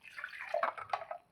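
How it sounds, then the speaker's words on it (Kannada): Water trickles and splashes into a mixer jar in a short, close pour that swells and gurgles unevenly, then tails off at the end. "ಮಿಕ್ಸಿ ಜಾರ್ಗೆ ಒಂದು ಸ್ವಲ್ಪ ನೀರು ಹಾಕಿ"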